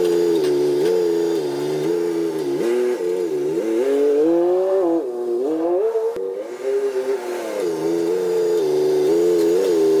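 A car being driven just after a brake repair, its brakes still needing to be bled, with a loud, steady engine note whose pitch climbs and falls repeatedly as it accelerates and eases off, with no talking.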